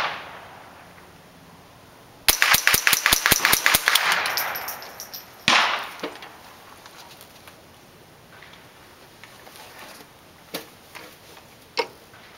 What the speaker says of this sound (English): Go ahead and see how fast we can shoot these up without a failure.